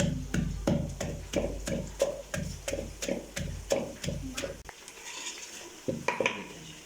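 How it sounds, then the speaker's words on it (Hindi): Mutton liver being bhuna-fried in a pan, with a utensil scraping and knocking against the pan in a steady rhythm about twice a second for several seconds. A softer sizzle follows, with a few more clinks, and nobody speaks. "इसको भी मैं थोड़ी देर के लिए भूनूंगा"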